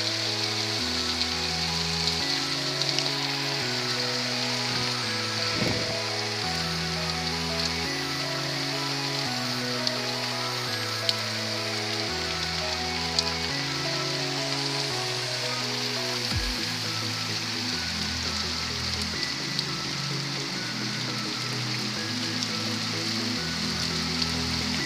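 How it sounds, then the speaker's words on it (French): Heavy rain pours in a dense, steady hiss of drops striking surfaces, loud and continuous, with a low musical tone running underneath. "Oh là là, comment il pleut!"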